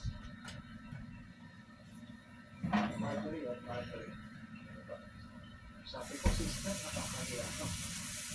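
Running water splashes during washing, a soft steady flow with occasional clatter and a louder gush near the end, with a person talking over it.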